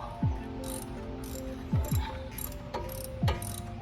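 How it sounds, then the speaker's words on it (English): Torque wrench ratcheting while tightening hub bolts on a 2014 Ford truck front hub, several quick clicking ratchet strokes with metallic pings, close and alone. "I'm going to take the torque wrench again, like I did on the others, up to 100 and then keep going"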